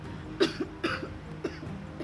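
Several short, dry coughs from a long-lasting cough come in a loose series, close by and fairly quiet, with brief pauses between them.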